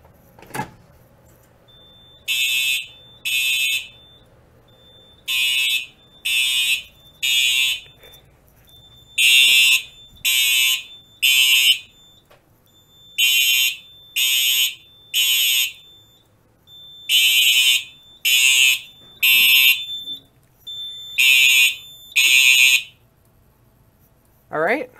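Simplex TrueAlert fire alarm horns on a Simplex 4010 system, set off from a pull station, blast in loud repeating groups of three pulses with short silences between, the pattern continuing throughout.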